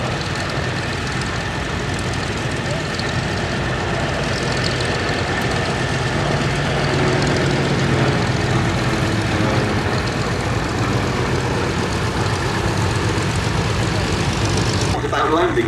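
Piston engines of a Lockheed 12A Electra Junior, a pre-war photographic reconnaissance aircraft, drone steadily and loudly at the Duxford Battle of Britain Airshow, with a commentator talking over them.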